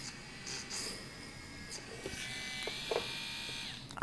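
A micro rotary hand tool bores holes into a small object. It gives off a steady, thin, high-pitched buzzing whine at moderate distance, with slight shifts in pitch as the bit works.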